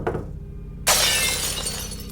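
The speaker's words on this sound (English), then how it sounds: "There was this quick and sudden loud bang on the glass, followed by a window in the kitchen completely shattering." A kitchen glass window shatters in one sudden loud burst of breaking glass that rings out and slowly trails off over a low background rumble.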